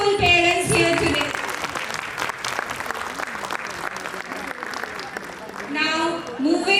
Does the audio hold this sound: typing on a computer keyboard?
no